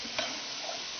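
Milk is poured into a roux in a pan, giving a brief soft sizzle with a faint stirring scrape and a small clink near the start. The sound is quiet and close, with no voices.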